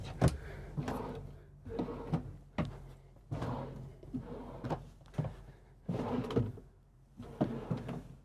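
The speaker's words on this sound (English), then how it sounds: "Remember, on these soft closing drawers, that you let them go in nice and soft." Soft-closing drawers inside a Newmar Ventana 4310 motorhome are pushed shut repeatedly, each making a muffled thud and slide. The soft, close-up knocks come at a steady rhythm of about one per second.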